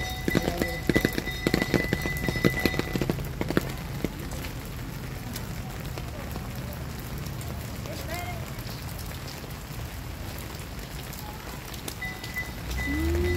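Steady rain falls during a walk on a rainy day in Sonsonate, a continuous close hiss of drops on surfaces, with sharper patters in the first few seconds and faint voices and a brief tonal sound near the end.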